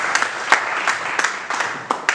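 A church congregation clapping in praise after a scripture reading, a short run of uneven, moderately loud handclaps close by, with no voices over it.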